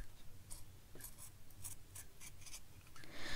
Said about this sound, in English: These scissors are so sharp, it's almost just sliding through the cheesecloth